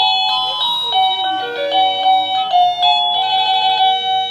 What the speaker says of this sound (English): There's your regular doorbell as well.